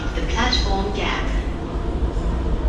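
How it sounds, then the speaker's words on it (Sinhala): Singapore metro train pulling into a platform, a steady loud rumble and rail hiss with a rising whine, while a person talks over it. "ඔන්න දැන් ට්‍රේන් එක එනවා"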